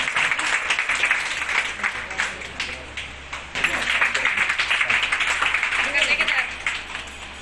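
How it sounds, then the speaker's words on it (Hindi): Sustained loud applause for Neha Parveen at a ceremony for trained young women in Niyamatpur, many hands clapping in a thick continuous patter with a brief dip midway, while a voice talks faintly underneath. "नेहा परवीन की एक बार जोरदार तालियों से फिर सम्मान करें।"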